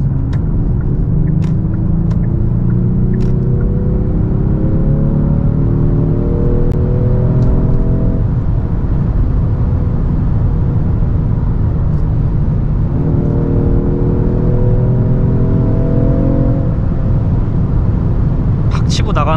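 A Genesis G70 3.3T pulls hard in Sport Plus mode, its engine note climbing steadily through the revs in two long rising sweeps with a shift between, loud over constant road and cabin rumble.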